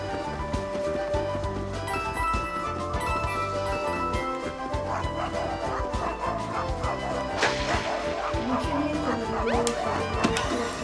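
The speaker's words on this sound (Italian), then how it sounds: "Oh, guardate, c'è un cane!" Dog barking in the Paper Mario: The Origami King video game, short yips mixed into busy game music and effects that play throughout, with a person talking at times.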